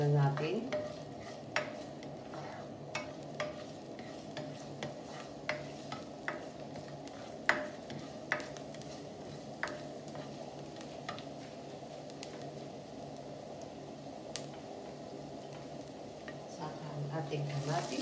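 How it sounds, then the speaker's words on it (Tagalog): Garlic browning in a hot pan for a simple Filipino pinakbet, a steady low sizzle with soft scraping stirs and small utensil taps recurring throughout, fairly quiet and close. "lalagay na natin ang bawang. Medyo brown muna natin."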